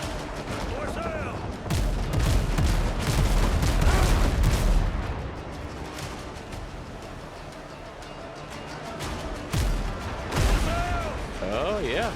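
Cannon fire booms repeatedly through a sea battle in the Windrose video game, with heavy rumbling volleys building and fading and a voice speaking over the din.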